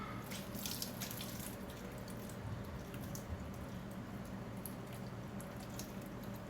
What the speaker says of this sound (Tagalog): Konting patak na tubig. Tingnan nyo naman, ang liit lang. Kasi hindi ko nilalakasan.